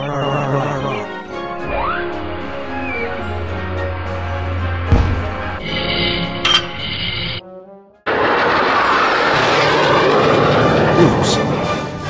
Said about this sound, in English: It is a jet engine.